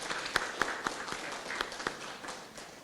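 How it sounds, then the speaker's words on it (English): A small audience at a book launch gives a poem another round of applause, heard as sparse, fairly faint claps with a few sharper hand strikes spread across the moment. "I think that poem deserves another round of applause."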